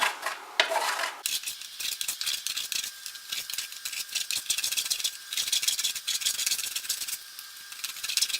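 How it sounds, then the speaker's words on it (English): Bourneville dark chocolate scraped against a grater in quick, uneven rasping strokes, close and fairly loud, with a sharp rattle at the start and no talking. "I've got some Bourneville dark chocolate, and I'm just going"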